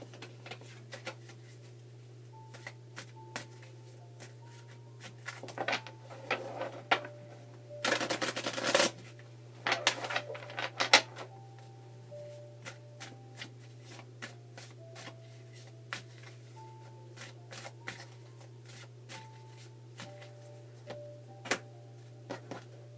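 Tarot cards shuffled by hand, soft scattered flicks and riffles with a brief dense burst of shuffling, faint and close over a steady low electrical hum, no talk.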